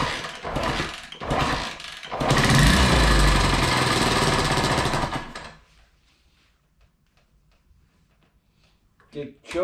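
A rebuilt Honda CT90 motorcycle engine cranks in short bursts, then catches and runs loud and rough on choke for about three seconds before cutting out into near silence.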